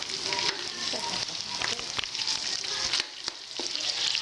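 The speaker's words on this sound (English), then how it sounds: "I am sauteing both the garlic and onion together" Garlic and onion sauté together in a pan for chicken chop suey, giving a steady loud sizzle with a few scraping stirs and clinks throughout.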